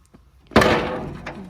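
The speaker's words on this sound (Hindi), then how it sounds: "चलो दरवाजा बंद कर दो।" A door is pushed shut with a single solid thunk, a short sharp impact followed by a brief rattle and a faint second knock, close by in a quiet room.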